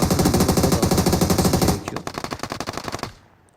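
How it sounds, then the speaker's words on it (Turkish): Loud, rapid automatic gunfire from a video game fires in a dense burst, then continues as a sparser string of shots before cutting off to near silence. "Tabi birbirine sıkıyorlar şu an."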